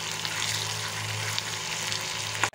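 Ingredients fry in a shallow pool of hot oil with a dense, even sizzle that runs close and unbroken, then stops with a sharp knock at the end.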